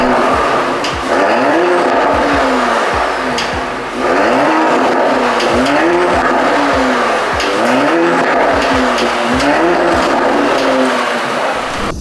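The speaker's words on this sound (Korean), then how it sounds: "스포츠 배기 안 들어볼 수 없잖아요" A Porsche Cayenne Coupe with a sports exhaust revs hard in repeated bursts, rising and falling loudly with sharp exhaust crackles between pulls.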